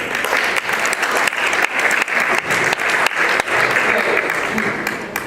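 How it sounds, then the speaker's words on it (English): A conference audience gives a dense, loud round of applause that holds steady for several seconds, many hands clapping together in a continuous wash. "Let's give him a warm applause"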